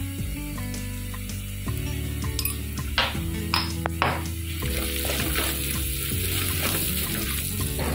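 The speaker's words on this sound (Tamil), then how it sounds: "வெங்காயம் நல்லா வதங்கிருச்சு." Onions fry in a pan with salt and turmeric for a Tamil-style kadappa, a steady close sizzle punctuated by scrapes and clinks of a spoon stirring against the pan.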